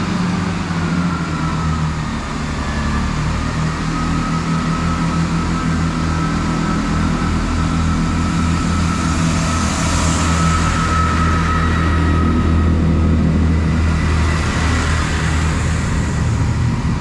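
A train idles at a station near Hereford, its engine giving a loud, steady low rumble and drone that holds without a break, with faint higher hiss and no voices.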